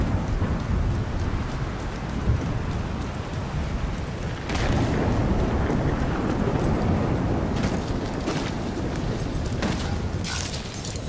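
A heavy rainstorm pours down in The Division 2: Warlords of New York, a steady close hiss of rain layered over deep rolling thunder that swells midway, with no voices.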